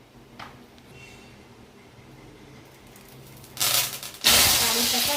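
Mustard oil hits a hot kadai and sizzles. After a quiet stretch with faint kitchen noise, a loud, bright hiss bursts in near the end and keeps going strongly.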